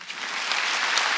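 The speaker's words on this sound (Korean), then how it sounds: "박수 좀 쳐줘요" A brief, even burst of congregation applause during a Sunday church worship service, a close wash of many clapping hands with no pause.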